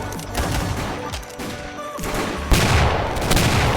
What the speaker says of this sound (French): Là, ce bruit de pistolet.